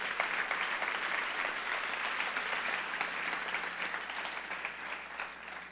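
A church congregation applauds together in steady, dense clapping that carries through the whole stretch at an even level, with no talking over it.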